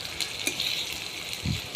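Onions fry in a pan for a dried fish curry with gourd, giving a faint continuous sizzle with soft stirring scrapes and a brief low clunk near the end.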